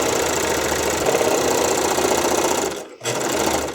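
Sewing machine or serger stitching stretchy spandex, a steady loud mechanical whir running continuously, briefly stopping for a moment near the end before starting again.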